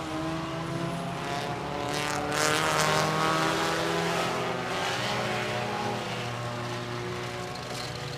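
Race cars roar out of turn 4 at Seven Rivers Racing, a steady engine drone from a distance that swells briefly then holds at an even level.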